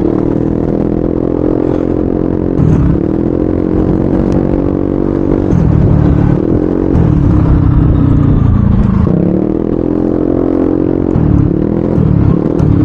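A vehicle driven in a video game gives a loud, continuous engine drone that rises and falls with gear-like revving sweeps, alongside rough rolling clatter and no talking.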